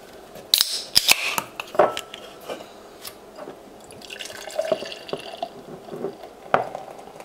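Beer brewed in the Faroe Islands poured into a glass, with a few sharp clinks and taps, then a soft fizzing trickle of liquid and scattered drips, close and fairly quiet.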